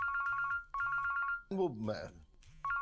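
A phone ringtone plays a repeating electronic trill close by, sounding in three short bursts, interrupted once by someone speaking briefly in the middle.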